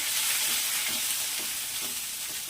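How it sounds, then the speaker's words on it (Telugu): Turmeric, chilli powder and coriander powder being stirred into a hot pan for tomato saalan, with a steady frying hiss and a spoon scraping through the mix in a regular rhythm, close up with no voices. "పసుపు, కారము, ధనియాల పౌడరు వేసి కలపాలండి"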